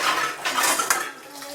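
Metal dishes, pots and cutlery clatter and scrape close by in a home kitchen during Sunday cooking, a busy run of overlapping clinks with no talk.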